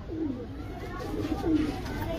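A Kasuri Golden pigeon coos softly in a few low, rolling phrases at close range on a rooftop, with faint talk in the background.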